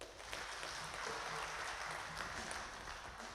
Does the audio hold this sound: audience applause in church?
yes